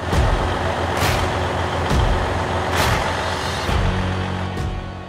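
A wood chip hauling truck in Gaspésie, Quebec rumbles with a loud, steady diesel drone, punctuated by several short hissing bursts that sound like air releases.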